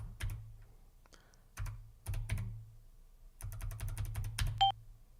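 Click-clacking keystrokes on an 8-bit DOE mechanical keyboard, N edition, arriving in short bursts and quick flurries with small pauses between them, crisp and close, and a brief electronic beep near the end.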